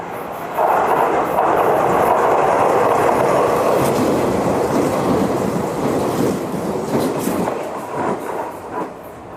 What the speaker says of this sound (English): I just heard an announcement that a train's gonna pass by. I think this is the Limited Express.